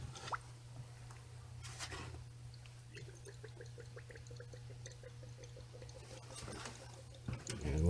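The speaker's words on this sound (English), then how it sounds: "our antifreeze is starting to flow out of there" Antifreeze coolant trickles out of a 2015 Dodge Grand Caravan RT 3.6L engine during a thermostat replacement, making faint, quick drips and small splashes in a quiet workshop over a low steady hum.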